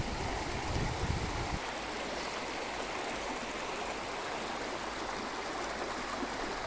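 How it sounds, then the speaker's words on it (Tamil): A hill-country waterfall in full spate, its steady roaring rush of water filling the air without pause, with a brief low rumble of wind or handling at the start. "இதுதாங்க அருவி. எவ்வளோ அழகாக பெருக்கெடுத்து ஓடுது பாருங்க."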